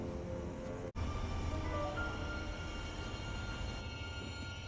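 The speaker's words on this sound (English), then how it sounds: "It's just a ghost train. There's nobody on it." A train pulls into a station in a TV drama scene, a steady, fairly quiet rumble of rolling wheels and carriages that continues without voices.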